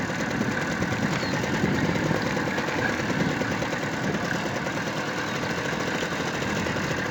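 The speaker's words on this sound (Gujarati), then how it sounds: "બાપાનું મોટરસાયકલ લઈને ઉપડ્યા" A motorcycle engine runs continuously up close, a steady mid-pitched chugging drone with a slight rattling vibration and no talking.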